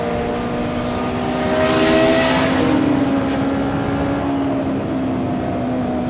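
A Formula 1 race car driven hard on a track, its high-pitched engine whine swelling loudly as it passes close by, then settling into a steady sustained drone.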